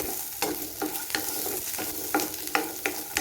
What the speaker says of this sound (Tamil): இப்போது இது கூட சின்னதாக கட் பண்ணி வச்சுருக்க தேங்காவையும் சேர்த்துக்கிறேன். இது எல்லாத்தையும் சேர்த்து நல்லா வதக்கிக்கலாம்.